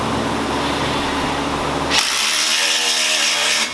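A power tool, likely an impact or drill, tightens an engine part on a turbo LS Foxbody rebuild, running as a steady whine that jumps to a brighter, higher-pitched tone halfway through.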